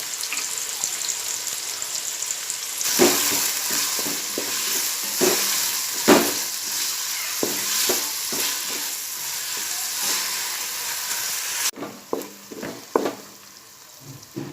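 Sliced onions sizzle steadily in hot oil with a little salt while being cooked down into birista. A loud, constant frying hiss runs under repeated scraping stirs of a spoon against the pan, with no talking.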